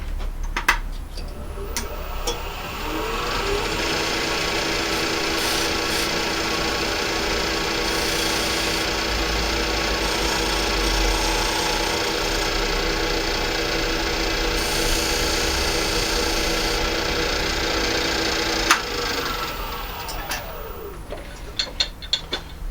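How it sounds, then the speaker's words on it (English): A power tool bores a 1 1/8 inch hole into the end of a piece of wood, a steady, loud, grinding mechanical whir that holds for about seventeen seconds before winding down. "I'm going to put that on the end of the wood, and then I'll be able to cut that hole."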